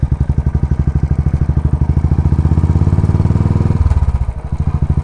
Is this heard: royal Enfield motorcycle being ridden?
yes